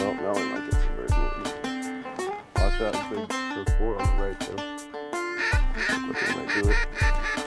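Ducks quack repeatedly during a duck hunt, loud and close, with rhythmic calls that sound like a hunter working a duck call, layered over one another for several seconds.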